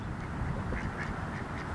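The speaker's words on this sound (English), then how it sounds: "And here we have ducks again" Ducks in a park quack in a dense, continuous chorus that stays fairly loud and close throughout the short stretch.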